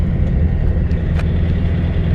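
A 1963 VW Beetle rolls along with a steady, loud low engine rumble, close and continuous, with no talking.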